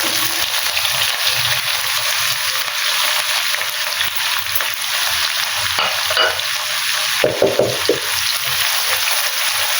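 Chopped onion, ginger and garlic fry in hot oil in a pan for a dhaba-style egg chana dal, giving a steady loud sizzle throughout with a few sharper scrapes and clatters of stirring near the end.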